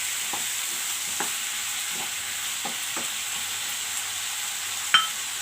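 Ivy gourd, carrot and potato fry in a pan with a constant sizzle, while a spatula scrapes and taps at a slow, irregular rhythm, and one sharper clack sounds near the end.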